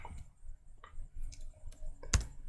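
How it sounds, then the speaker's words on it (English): A few soft keystrokes on a computer keyboard, with one sharp louder click near the end, close and quiet with no speech. "Let me type it"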